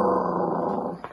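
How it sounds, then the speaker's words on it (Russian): A dog growls in a low, rough, continuous rumble for about a second, fairly loud and close, then fades into faint noise. "Зарычала в ответ собака."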